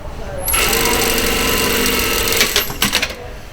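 Sewing machine stitching a shoulder or side seam on a blouse, sewing over pins, running as a steady continuous mechanical whir close by for about two seconds before breaking into a few short stop-start bursts.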